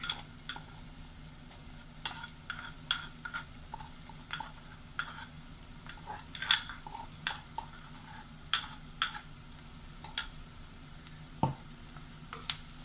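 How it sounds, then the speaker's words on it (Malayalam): Onion, crushed garlic and ginger sauté in a pan for a chicken and green peas curry, giving a quiet, steady sizzle broken by regular scrapes and taps from a stirring spoon. "ഇതിൻ്റെയൊക്കെ പച്ചമണം മാറുന്ന വരെ വഴറ്റി കൊടുക്കാം"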